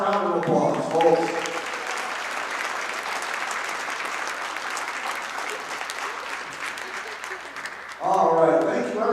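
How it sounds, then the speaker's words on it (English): Crowd applause in a gym before a basketball game, sustained clapping from the stands, with someone speaking over a loudspeaker at the start and again at the end. "let's give everyone one last round of applause"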